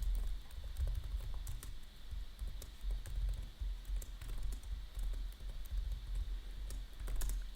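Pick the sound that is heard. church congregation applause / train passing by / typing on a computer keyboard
typing on a computer keyboard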